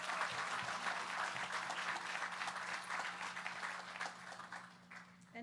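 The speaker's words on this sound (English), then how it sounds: "Can we give another round of applause for Atlas?" An audience at a village community gathering claps loudly for a performer named Atlas, a dense sustained burst of applause that thins out near the end as a voice begins to speak.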